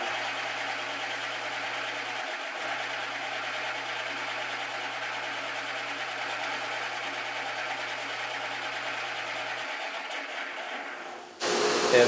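A radius sander works on a part from a Stratocaster guitar kit, giving a steady, continuous motor whir with a sanding hiss that runs unbroken for about eleven seconds before a sudden louder burst at the end.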